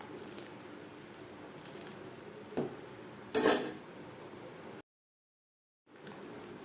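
Chopped coriander being stirred into dal fry in a cooking pot, with a few soft scrapes and one brighter clatter of utensil against metal over a steady background hiss, followed by a brief dropout.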